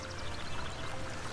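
Steady broadband rush of water pouring down like a shower in the video game Trine 2, continuous and close for a brief moment with no talk over it.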